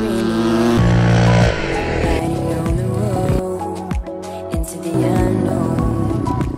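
A motocross motorcycle ridden in third gear at about 40 km/h, its engine droning loudly and close up, the pitch rising and dipping with throttle changes and a couple of sharp shifts in tone.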